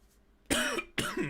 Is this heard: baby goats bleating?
no